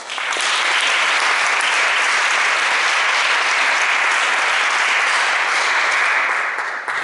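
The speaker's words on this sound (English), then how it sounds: "I want you to give you a round of applause." Loud, sustained applause from a graduation audience at a labor training program ceremony, a thick even roar of many hands clapping close by for about seven seconds with no speech.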